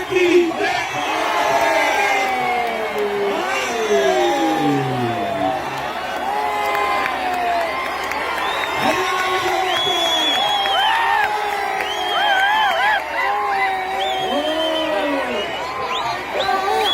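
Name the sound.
crowd cheering at a wrestling match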